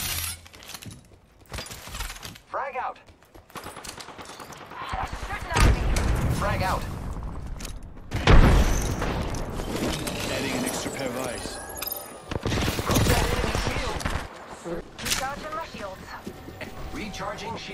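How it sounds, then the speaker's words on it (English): Gunfire in the battle royale game Apex Legends, with bursts of shots and sharp impacts crackling loudly amid game effects while a voice speaks over the action. "I am taking fire, friend."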